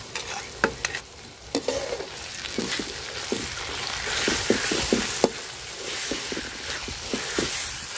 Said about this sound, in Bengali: তো মশলাটা আগে ভাজা নেই।